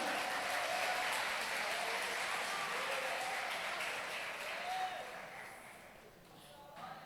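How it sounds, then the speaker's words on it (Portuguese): A church congregation applauds in a soft, sustained patter that gradually fades, with a preacher's voice carrying over the clapping. "Você pode aplaudir o nome de Jesus Cristo?"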